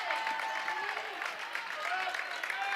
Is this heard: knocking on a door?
no